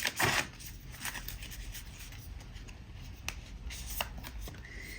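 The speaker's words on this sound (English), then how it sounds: "So cards were a little bit all over the place then, so let's cut them again." Tarot cards are cut and shuffled by hand, with a crisp riffle burst at the start, then soft rubbing and occasional card taps at close range, no talking.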